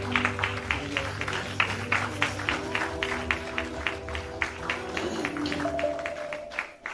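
A church congregation gives a clap offering, clapping in a steady rhythmic beat over sustained keyboard chords. The clapping is moderately loud and continuous, with a few scattered taps and voices mixed in.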